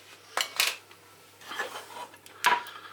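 A few light metallic clinks and scrapes against a pan as ghee is swirled around, three separate bursts with quiet gaps, close by and fairly soft.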